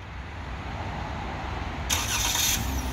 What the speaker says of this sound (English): Car starts up